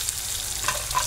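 Thinly sliced potatoes and tomato sizzle in oil while being stirred. Brief scraping stir sounds rise over a dense, close frying hiss.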